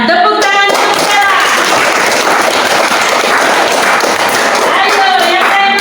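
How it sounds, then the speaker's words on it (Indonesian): Second-grade schoolchildren clap together in a classroom during a lesson, a dense, steady burst of hand claps filling the room for several seconds, with young voices mixed in around the start and end. "Tepuk tangan untuk saya."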